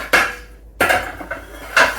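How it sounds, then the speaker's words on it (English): Baking pans being washed in a kitchen sink after a batch of muffins, giving three loud bursts of clattering metal and splashing with brief quiet gaps between them. "I'm gonna wash out these pans now"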